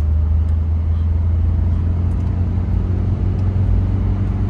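Renault Modus with a 1.5 dCi 50 kW diesel engine pulling hard in fourth gear, a loud steady low drone and rumble heard from inside the car with no speech.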